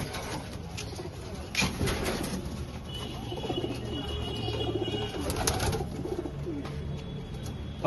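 Pigeons in a loft coo in low soft repeated murmurs, with an occasional brief wing flutter and faint rustling nearby.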